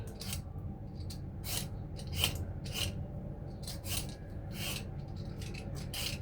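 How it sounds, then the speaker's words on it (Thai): A knife scrapes and rasps repeatedly as the skin is peeled from a santol fruit, a series of close, crisp strokes at an uneven rhythm with no speech. "จากนั้นเราจะมาปอกกระท้อนก่อน"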